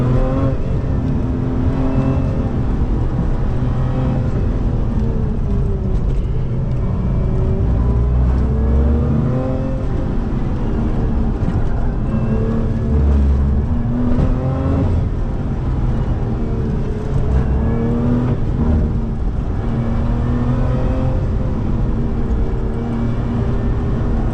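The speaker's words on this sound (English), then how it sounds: "supercharger sounds so good. Honestly, this engine sounds incredible." Supercharged Lotus Emira with a manual gearbox heard from the driver's seat under hard acceleration, a loud continuous engine roar with rising and falling pitch sweeps through gear changes and a supercharger whine layered on top, no talk.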